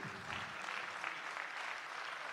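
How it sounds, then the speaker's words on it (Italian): A crowd at a folk song and music festival in Tonara gives a soft, steady round of applause, heard from a distance as a uniform rustle of many hands. "Un applauso agli amici di Gesturi."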